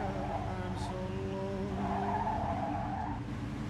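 Tires skid and squeal as a car is driven recklessly in the Mafia 2 video game, a steady sustained screech over engine rumble, with faint talk underneath.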